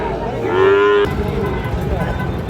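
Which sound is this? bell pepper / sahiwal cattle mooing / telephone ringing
sahiwal cattle mooing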